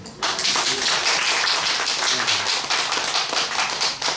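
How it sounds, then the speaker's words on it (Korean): A room full of listeners at a Korean religious instruction class claps together, sounding as loud, dense, continuous applause that starts abruptly and holds steady for several seconds. "박수 한번 치주세요."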